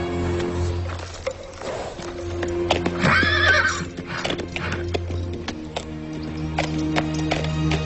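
A horse whinnies loudly while hooves clop steadily beneath it, the neigh rising and falling over continuous hoofbeats.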